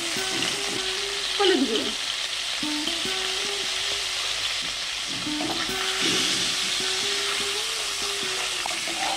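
Hilsa fish heads, cut small, fry steadily in hot oil in a pan, a continuous close sizzle with soft stirring scrapes and a brief voice over it.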